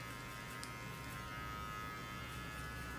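Electric hair clippers with a half comb attachment buzz steadily while blending a fade haircut, a close, continuous whirring hum with no one talking.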